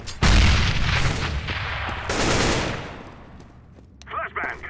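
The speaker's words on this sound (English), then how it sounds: "Flashbang! Oh, damn blind." A flashbang grenade going off in the video game Counter-Strike on the dust2 map, a loud close bang followed by a long harsh ringing roar, with a second surge and then voices talking near the end.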